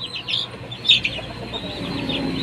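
Pet chickens clucking nearby in a short, busy stretch of overlapping clucks and chirps over a low background murmur, no talk.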